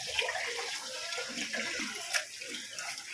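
Rice is swished and rinsed in a vessel of water, a steady close splashing and sloshing with a few louder splashes, before it is cooked into ghee rice.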